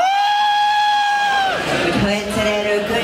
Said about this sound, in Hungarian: Zoltán Erikának egy óriási nagy tapsot!